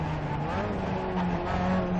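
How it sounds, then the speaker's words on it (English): A race car at Summit Point Raceway drones steadily from inside the cabin during a road race, its engine note rising and falling smoothly at close range while a voice talks underneath. "I've got a faster car behind us."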